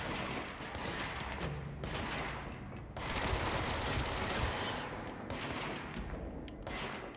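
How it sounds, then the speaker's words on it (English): Bursts of rapid automatic gunfire from the video game Control, loud sustained volleys broken by short pauses, with no voices over them. "What are you shooting at?"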